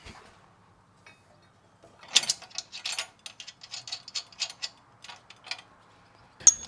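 Ratchet wrench clicking as three nuts are threaded back onto a J-pipe under a 2022+ Subaru WRX, heard as a quiet run of close, rapid mechanical ticks in uneven bursts, otherwise silent.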